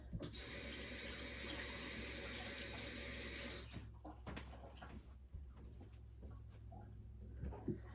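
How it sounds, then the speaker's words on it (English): A kitchen tap runs hard for a few seconds as hands are rinsed under it, then shuts off, leaving quieter handling sounds and small knocks nearby. "Let me give my hands one more real quick rinse."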